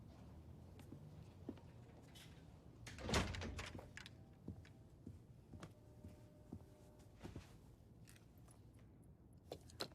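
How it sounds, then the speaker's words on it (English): One door swings shut with a single solid thud in a quiet room, followed by soft shuffling and small knocks; no voices are heard. "Close the door."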